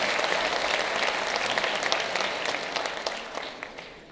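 Applause at an 8th grade moving up ceremony at a middle school, a full crowd clapping steadily and then gradually thinning and fading toward the end.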